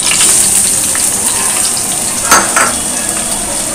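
Grated carrot frying in melted ghee for carrot halwa, a continuous bright sizzle close by, with one sharper clink of a spoon stirring against the pan partway through.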